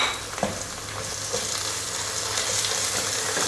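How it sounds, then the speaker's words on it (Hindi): Ginger garlic paste sizzles and fries steadily in hot oil with light-browned onions, a continuous close hiss with a few soft stirring clicks. "अब इसमें डालते हैं जनाब अदरक और लहसुन का पेस्ट।"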